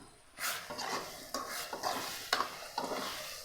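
Okra tamarind curry being stirred in a pan, a quiet sizzle broken by repeated scraping strokes of a spoon at a loose, even rhythm, close and alone.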